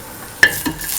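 Cashews dropped into hot butter in a pan give a sudden sizzle with a brief stirring scrape, then settle into a steady soft frying hiss.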